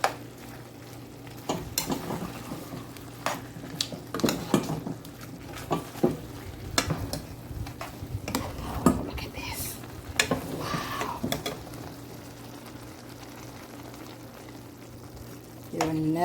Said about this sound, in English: Just stir it.